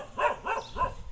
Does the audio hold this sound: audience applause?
no